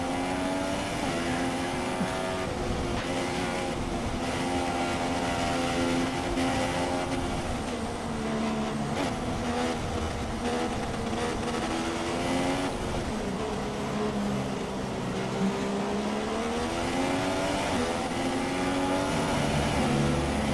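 Formula 1 race cars scream around the track in F1 2016 at the China circuit, a continuous loud engine whine rising and falling through gear changes, with other cars' engines blending in and no speech.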